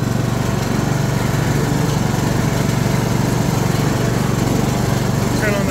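A Bolens ride-on lawn mower engine runs steadily and loud nearby, a constant buzzing drone that holds unchanged throughout.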